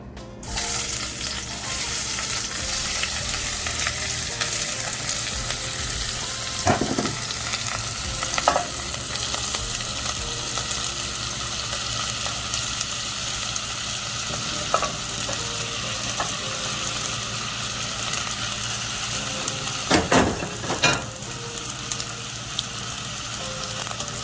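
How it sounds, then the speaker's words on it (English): Vegetables sauté in about three tablespoons of olive oil with a steady, close sizzle and crackle, plus a few occasional stirring scrapes, and no one talks. "I'm just using about 3 tablespoons of olive oil because I'm gonna saute these"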